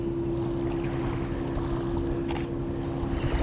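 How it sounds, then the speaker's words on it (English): Steady low engine drone and water wash from a small motorboat running close beside a large departing cruise ship in Vancouver harbour, with a brief hissy splash partway through. "there's a motorboat, a small motorboat coming in beside it"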